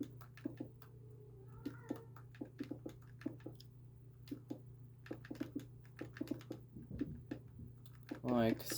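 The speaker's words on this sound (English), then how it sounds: "Don't mind my cat meowing." A house cat meows a few times in the background of a room with keyboard typing and clicking, plus a steady low hum. The calls are brief and fairly faint, and one louder cry comes near the end.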